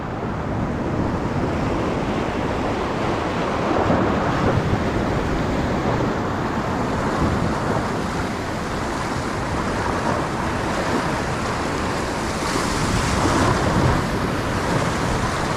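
Sea waves and current around Comas Island in Sual, Pangasinan, a continuous close wash of surf mixed with gusty wind buffeting the microphone, steady and loud throughout.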